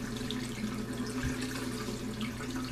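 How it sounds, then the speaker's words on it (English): Water runs steadily from a bathroom tap into a sink, a continuous close rushing flow with no voices. "I forgot the water was running."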